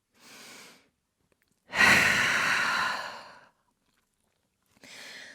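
Deep, audible breaths during a downward dog pose in a vinyasa yoga session: a short soft exhale, then a long, loud, rushing breath lasting over a second, and a final quieter breath after a pause, with no talking.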